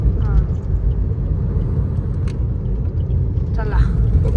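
A car carrying six passengers drives along with a steady low engine and road rumble from inside the cabin, holding at an even level throughout, while people inside chat beneath and over the drone.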